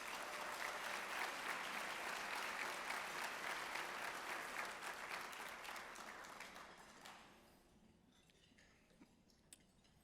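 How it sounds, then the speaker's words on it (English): A conference audience applauds steadily for several seconds at an opening keynote, then the clapping thins out and fades to scattered claps and quiet. "Let's give them all a round of applause."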